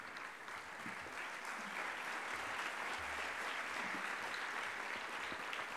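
Sustained applause from a crowd at a Thursday youth assembly, a dense and steady wash of many hands clapping at once with no break for several seconds.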